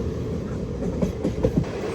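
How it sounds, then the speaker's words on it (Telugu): A superfast express train arrives at platform 2 of Tadepalligudem station, a loud continuous rumble with a few sharp clacks of wheels over rail joints near the end. "ప్లాట్ఫామ్ నెంబర్ 2కి అయితే వచ్చింది మన ట్రైన్."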